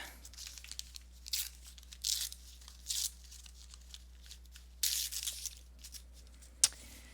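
A strip being torn off, several short rasping rips in bursts with pauses between, close and fairly loud, with a final sharp snap near the end.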